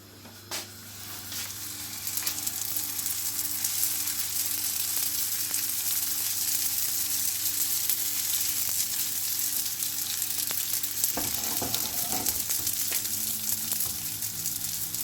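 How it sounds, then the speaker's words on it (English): Loud, steady sizzling of sourdough pizza frying in hot oil in a frying pan, a continuous crackling hiss with a few brief stirring clatters partway through. "we're now going to put it into the frying pan"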